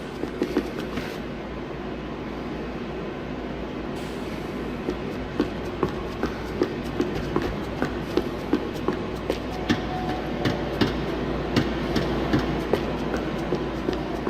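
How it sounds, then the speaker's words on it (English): A tram runs in Max Payne 3, a steady rumbling roll with a regular clickety-clack of wheels over rail joints that grows more pronounced, close and continuous, with no talk. "The trams were running again."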